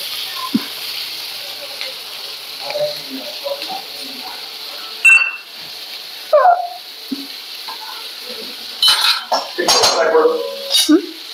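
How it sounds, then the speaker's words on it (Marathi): Ginger, garlic, coconut and onion being fried in a pan in a home kitchen, with faint sizzling under repeated metallic clinks and scrapes of utensils against the pan, close, as people talk over it. "आलं, लसूण, खोबरं, कांदा वगैरे सगळं फ्राय करून घ्यायचं आपल्याला"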